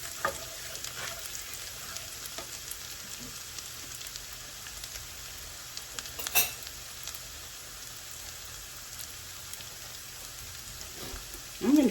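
Shallots sizzle gently in a pan for cowboy butter chicken pasta, a steady soft frying hiss with faint crackles and a couple of brief stirring clatters, no voices.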